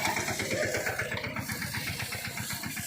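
A tractor engine runs close by with a steady rhythmic chugging and no talk.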